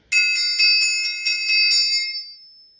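A thick beater strikes a percussion triangle seven times in a steady rhythm, each bright metallic ring overlapping the next, then the shimmering tone rings out and slowly decays alone.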